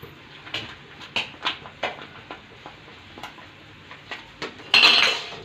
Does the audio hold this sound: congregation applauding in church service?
no